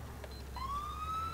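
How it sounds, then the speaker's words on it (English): An ambulance siren on a paramedic's Super Duty truck in GTA IV starts up partway through, a faint rising wail that holds a steady pitch over a low engine hum. "Let's use some siren, and that would be it."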